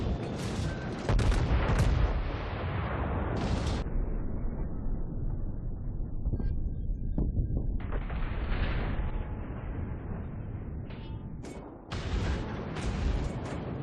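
Main guns of the battleship Tirpitz fire in a naval video game: loud booming salvos at the start and near the end over a constant heavy rumble of engine and sea noise.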